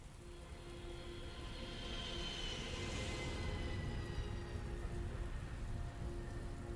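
Steady rainfall from the video game Heavy Rain, a soft, continuous hiss of drops on surfaces that swells slightly midway, with a faint low rumble beneath and no voices.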